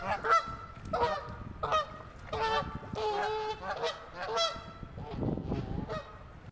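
Several geese honk near water in a run of loud, close, nasal calls that overlap in ragged bursts, with brief pauses between calls and no talking.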